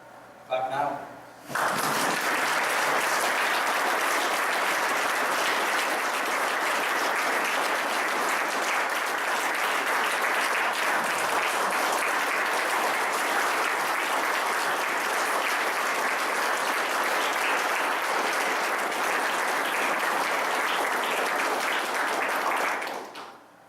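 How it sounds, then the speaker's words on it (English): Sustained applause from a crowd at an Air Force retirement ceremony, loud and steady, beginning abruptly after a brief pause and continuing for over twenty seconds before tapering off. "Clap now."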